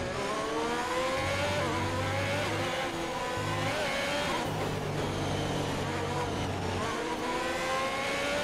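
Formula 1 car engine in the racing game F1 2021, a Mercedes on track, droning steadily at high revs through the whole stretch with brief tonal shifts, close and continuous, without speech.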